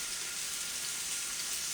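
Scallops searing in olive oil in a hot pan give off a steady, soft, close sizzle with no voices.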